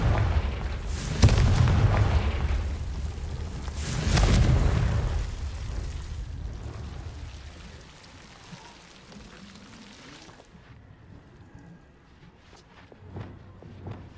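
Two heavy booming blasts of the Confringo spell in Hogwarts Legacy hit close together, each leaving a rumble, then fade into a quieter stretch of crackling and soft patter.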